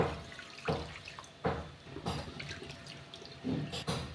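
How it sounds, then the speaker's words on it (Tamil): Roasted moong dal being rinsed in water for a sweet, with splashing, sloshing pours and drips in a few short bursts, close and moderately loud with no talk. "இது தண்ணி ஊற்றி ரெண்டு தடவை நல்லா கழுவி எடுத்துருங்க"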